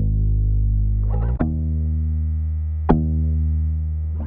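A bass track processed as synth bass with Waves Curves AQ equalization holds a sustained low buzzy tone with rich harmonics. Two sharp note changes break it, then it fades slightly near the end.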